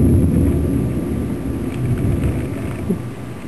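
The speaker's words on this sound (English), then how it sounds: "And the thunder is so strange." Thunder rumbles through a thunderstorm in Milan, a low, rolling roar that swells and fades across the whole stretch with faint rain noise underneath and no voices.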